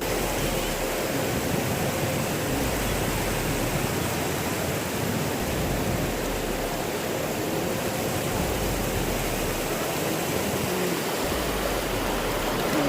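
Floodwater rushing with great force during Cyclone Fengal, a steady, loud, broadband roar of surging water that continues unbroken with no pauses.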